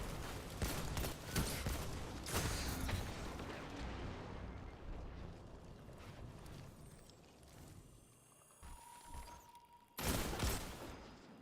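Hand cannon gunfire in the video game Destiny 2 during an Iron Banner match: repeated sharp, booming shots over a dense rumble of in-game battle noise, with a loud burst near the end.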